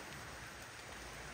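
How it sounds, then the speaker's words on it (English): Light rain falls steadily outside an apartment balcony in Jamaica, a soft, even hiss of drops that continues without a break and with no voices. "got a little light rain happening."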